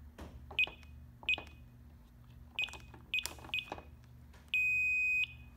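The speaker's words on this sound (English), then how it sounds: "You turn on chime." A BHS 3102 security keypad sounds its door chime: short bright beeps in small groups at irregular intervals over a low steady hum, then a longer sustained tone near the end.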